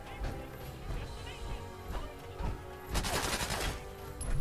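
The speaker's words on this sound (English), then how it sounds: "Who's throwing grenades at me?" Gunfire and grenade blasts during a firefight in Fallout 4, loud rapid shots and sharp bursts over a few seconds, with a heavier crash near the end.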